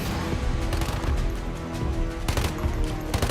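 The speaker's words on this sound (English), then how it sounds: "I'm gonna shoot him with these last bullets" Gunfire in the video game Once Human: rapid, loud shots fired in quick bursts, closely spaced cracks that stack into a dense rattle with a couple of sharper volleys near the end.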